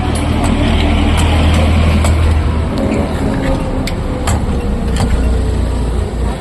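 A vehicle engine revs loudly and close by, its deep, throbbing rumble swelling and easing over several seconds, with sharp clanks and knocks over it.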